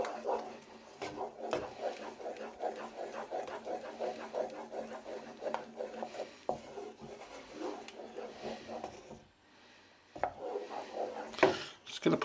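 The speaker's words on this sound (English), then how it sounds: "You don't want them lumps of pepper if we can help it. So I'll just keep stirring that." Sauce for a chicken and sweetcorn lasagne, mixed with pepper and garlic granules, is stirred continuously, giving a close, rhythmic scraping and rubbing of a utensil against the pan with a short pause and a few louder knocks near the end.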